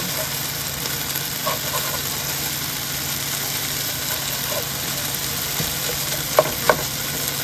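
Chicken fajitas cooking in a pan give a steady, close sizzle and hiss throughout, with a couple of sharp clicks near the end.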